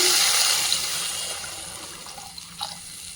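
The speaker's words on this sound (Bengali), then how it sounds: "জল দিয়ে দেবো" Water poured from a tap into a cooking pot of fish curry in a home kitchen, a steady rushing stream that slowly fades, with a few small splashes near the end.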